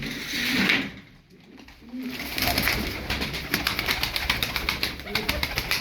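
Turkish tumbler play pigeons cooing in a loft, soft repeated throaty coos mixed with rustling and a brief flutter, fairly close, while someone talks over them.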